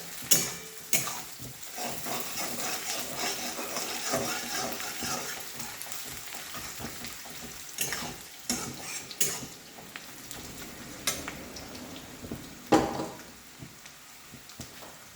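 Steamed potato pieces fry in oil in a pan for a fish curry, giving a soft continuous sizzle broken by irregular scraping clatters of stirring, fairly quiet and close, with no talking.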